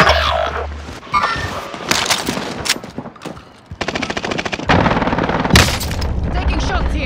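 Gunfire in Call of Duty: Modern Warfare, with rapid automatic bursts, booming single shots and crashes, loud and close, mixed with game radio voices.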